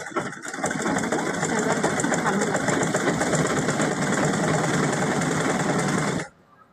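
An electric sewing machine runs steadily while stitching elastic into a salwar, a loud, fast, even whirring clatter that holds for about six seconds, then cuts off abruptly to quiet.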